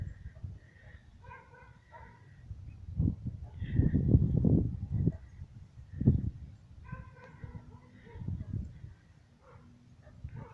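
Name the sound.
dog barking in the distance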